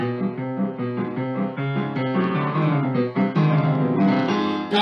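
Chaotic orchestral passage from Wagner's Ring cycle, the motif for Alberich built from tiny half-step intervals, played loud and dense with shifting chords and swelling accents throughout.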